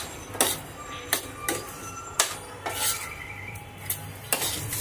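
Drained pasta is being mixed in a pan with a utensil, giving a series of sharp metallic clinks and scrapes against the pan at an irregular rhythm, with a faint sizzle underneath throughout.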